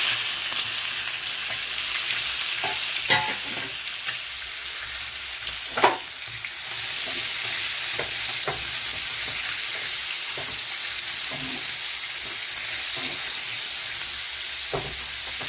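Prawns fry in a pan with turmeric and salt, a steady sizzle running throughout with scattered scraping clicks from stirring and one sharper clatter midway, close up and with no voices.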